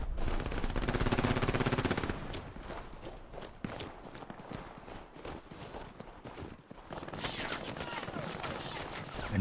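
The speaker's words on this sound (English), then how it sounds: "MG42 fire on its way" MG42 machine gun fire in the World War II shooter Hell Let Loose on console, heard amid a busy battlefield: rapid rattling bursts, clattering footsteps and impacts, mostly mid-distance, with a louder dense stretch at the start and again near the end.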